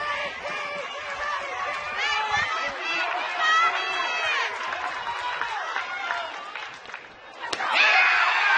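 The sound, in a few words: softball crowd reacting to a pitch call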